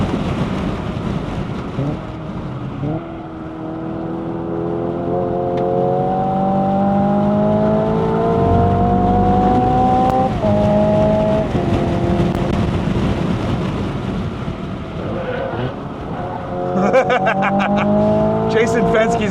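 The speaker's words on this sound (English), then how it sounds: "hear those tires getting tortured because this thing weighs a ton" A 2025 Hyundai Ioniq 5 N driven hard on a race track, its tires squealing through corners with rising whine tones over road and wind roar. A driver talks over it.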